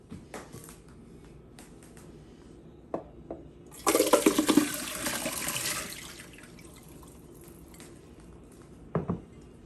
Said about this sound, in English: now our cashews are ready to be drained